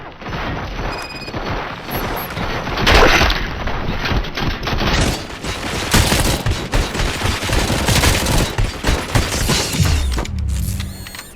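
Sustained gunfire in the video game RoboCop: Rogue City, loud overlapping rapid shots and automatic bursts with mechanical clanks and booms, nearly continuous for about ten seconds before cutting off abruptly.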